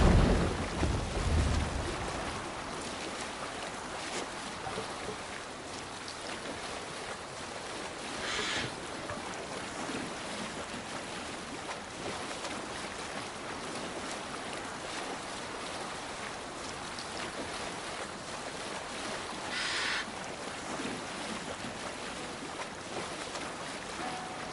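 A Viking sailing ship sets off in Assassin's Creed Valhalla, with a steady wash of water and wind around the hull, continuous and moderately loud, with no voices.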